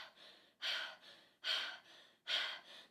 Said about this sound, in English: just do some panting